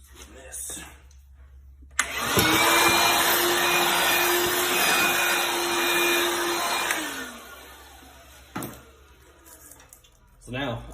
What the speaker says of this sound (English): I'll start my vacuum up